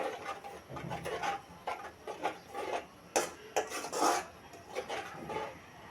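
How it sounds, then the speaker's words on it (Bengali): Spices fried in oil in a kadai for a fatty winter bata fish curry are stirred with a metal spoon, giving soft irregular scrapes and clinks against the pan under a faint sizzle, quiet and close, with no talking. "নেড়ে চেড়ে মশলা কষিয়ে নিব।"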